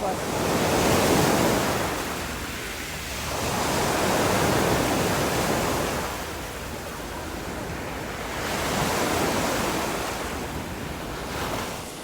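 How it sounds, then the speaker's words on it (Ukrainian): Sea waves breaking on a beach in Dobre Vode, Montenegro, loud close surges of surf rising and falling in slow swells with wind rushing over the microphone. "Подивіться, як класно хвиля б'є."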